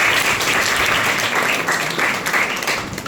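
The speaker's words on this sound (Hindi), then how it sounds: "और तालियां भी" Close, loud applause from a gathered group, a thick continuous clatter of clapping that swells slightly in waves and tapers at the end.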